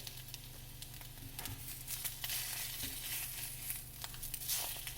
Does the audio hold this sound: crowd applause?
no